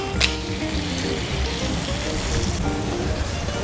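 Chicken pieces frying in a pan until golden brown, a steady loud close sizzle that keeps going throughout, with one brief clatter near the start and no talking.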